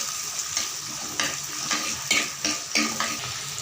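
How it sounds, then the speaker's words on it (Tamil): Shallots, garlic, fenugreek and cumin sizzle and crackle in hot oil while being stirred, with rhythmic scraping strokes in a pan, close up. "சின்ன வெங்காயம், பூண்டு, வெந்தயம், ஜீரகம்லாம் போட்டு தாளிக்கும் போது"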